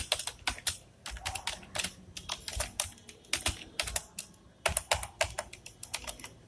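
Code being typed on a computer keyboard: quick, close, crisp key clicks in uneven bursts with brief pauses between runs, no talking.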